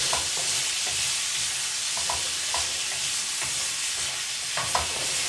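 Choko pieces frying in a pan for a Malaysian coconut milk dish, giving a steady close sizzle with scattered stirring clatter throughout, with no voices.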